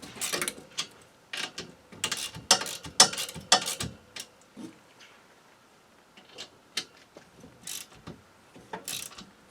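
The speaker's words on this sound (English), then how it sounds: "snug these bolts up" Someone tightens bolts with a ratchet while installing an 8 kW Chinese diesel heater, making bursts of rapid clicking with pauses between them, close and fairly loud, with no voices.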